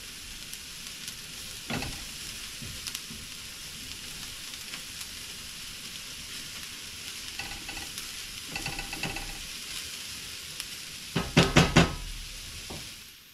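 Mushrooms sizzle steadily in a pan on a gas stove at medium heat while a utensil stirs them, with occasional scrapes and a cluster of louder knocks against the pan near the end.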